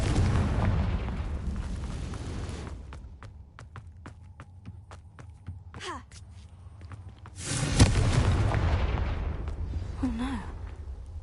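Fire-spell blasts go off in the Hogwarts Legacy video game: a rumbling hum, then a quick run of sharp cracks, and near the end a loud booming burst that slowly fades out.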